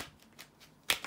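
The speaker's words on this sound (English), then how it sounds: "bear with me a second, guys, to shuffle the tarot cards" Tarot cards being shuffled, a few soft papery riffles followed by a sharper, louder riffle near the end, quiet and close with no talking.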